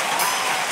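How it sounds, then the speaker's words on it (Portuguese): A brief burst of dense studio audience clapping on a TV talk show, steady and loud, cut off quickly. "queria uma salva de palmas para o Diguinho, o Tetamen."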